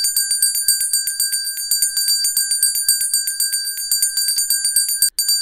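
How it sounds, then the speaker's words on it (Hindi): A bicycle-style bell rings rapidly and continuously, a bright metallic trill repeating many times close by, with one brief break near the end. "पैबलव जब कुत्ते के सामने घंटी बजाता है"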